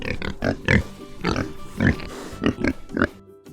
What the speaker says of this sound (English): This is the sound a pig makes.